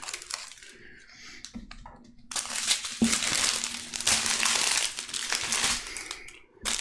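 Scissors cut through a plastic packet of diamond art drills, a crinkling, crackling plastic sound that comes in close bursts and grows louder through the second half, with no talking.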